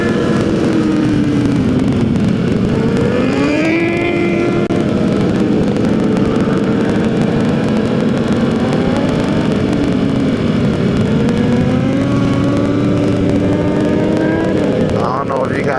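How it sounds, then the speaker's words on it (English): A large group of motorcycles and sport bikes riding together on the road, engines droning and revving loudly and continuously nearby, with rising and falling pitches from several bikes and heavy wind noise throughout. "Everybody's wheeling, whole bunch of chicks on bikes, whole group of chicks on bikes."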